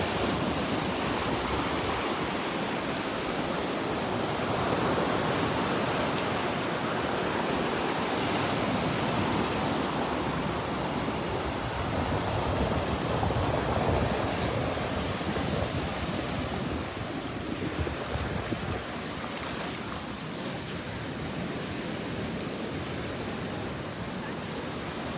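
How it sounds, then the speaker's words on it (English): Gulf of Mexico surf rolling onto a beach in North Naples, Florida, a loud, steady, broadband roar of breaking waves with some wind, continuous and without talk. "What do you think of the roar of the ocean this morning?"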